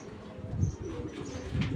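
A plump racing pigeon gives soft, low cooing notes in a few brief bursts, close by but faint, against a quiet room background.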